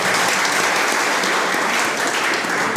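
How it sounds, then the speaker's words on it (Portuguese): Loud, dense applause from a gathered crowd welcoming a priest at a church class, continuous clapping that holds steady throughout. "Uma salva de palmas para o Padre."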